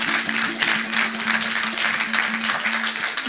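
An audience at an evening album presentation applauds in a steady wash of clapping that carries on throughout without a break.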